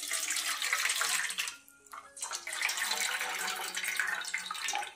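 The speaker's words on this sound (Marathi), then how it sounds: "पाणी ना काढून टाकते." Water poured off overnight-soaked chickpeas in a home kitchen, a steady close splashing stream that briefly thins, then resumes running until the end.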